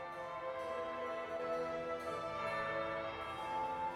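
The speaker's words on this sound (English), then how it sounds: "That would be the second bell." A bell rings out in the video game Dragon Age Inquisition, a sustained, resonant tone that hangs steadily and fairly loud throughout with no speech.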